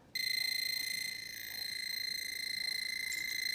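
A battery-powered outlet circuit tester plugged into a live wall outlet gives off a steady, high electronic tone that starts abruptly and holds for several seconds with no talking.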